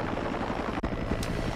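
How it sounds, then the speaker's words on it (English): Helicopter in the action game Ninja Gaiden Black, a steady, dense rotor-and-engine roar filling the whole stretch at constant loudness, with a brief dip and a faint sharp tick partway through; no talking. "there's going to be a helicopter that's going to come in"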